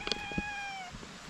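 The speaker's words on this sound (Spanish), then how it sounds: "Está maullando." A cat gives one sustained, clear meow lasting nearly a second, up close and steady in pitch, with a few soft thumps and background noise around it, during a van-life trip in El Salvador.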